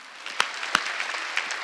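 A church congregation at a Sunday worship service claps together, a short burst of dense, fairly distant applause with a few sharper individual claps standing out, no talking over it.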